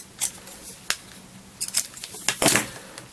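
Scissors trim excess leather in a handmade leather-craft setting, several quick, crisp snips close by at uneven intervals, with brief handling noises between cuts.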